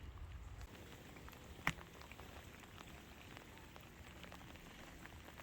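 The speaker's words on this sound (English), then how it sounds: "So we'll just see how much more rain we get throughout the rest of the evening." Steady light rain pattering on a surface during a winter storm in Atlanta, Georgia, faint and continuous with one sharper drip, no voices.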